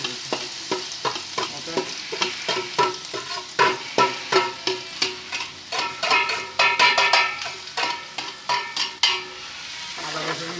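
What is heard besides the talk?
oil frying with ginger, garlic and onion added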